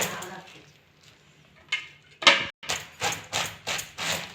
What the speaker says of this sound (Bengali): বাঁধাকপিটা আমি প্রথমে কেটে নেব